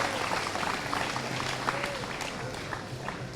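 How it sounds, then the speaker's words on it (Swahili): Students at a boys' secondary school in Mombasa clap together in steady, dense applause that holds at an even level throughout, with a few faint voices mixed in. "Jipigiani makofi nyinyi"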